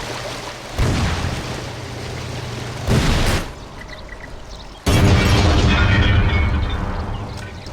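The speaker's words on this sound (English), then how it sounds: "Generator exploded." A generator blowing up in the game S.W.I.N.E., with loud booming blasts at intervals followed by a long roaring, rumbling burst that carries on to the end, with no voices.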